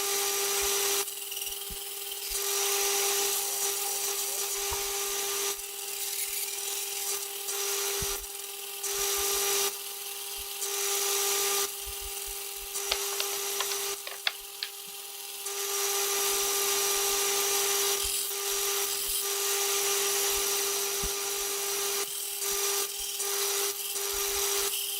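A belt grinder fitted with a fresh 40 grit belt shapes an epoxy-set knife handle, a steady close whine broken by repeated grinding passes and brief pauses, with no voices.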